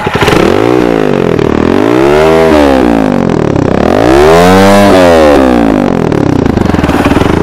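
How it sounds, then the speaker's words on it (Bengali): A Speeder NSX 165R motorcycle engine revs repeatedly in neutral, loud and close, rising and falling in long throttle sweeps over a constant idle. "আমার ফ্রেন্ডকে একটু পিক আপ দিতে বলি এই স্টার্ট দাও তো একটু নিউট্রাল করা আছে স্টার্ট দে"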